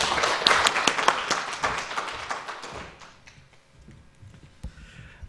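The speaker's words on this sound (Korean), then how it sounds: "예, 박수로 환영하죠" Church congregation clapping at a Sunday service to welcome a speaker who worked as a Bible translator, dense claps for about three seconds, then fading to a few scattered claps in a quiet hall.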